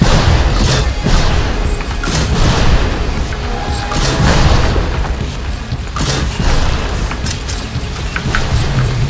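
Bomb blasts in the video game Strafe, loud booming thuds repeating in a dense, rumbling series with debris-like clatter, close and heavy throughout.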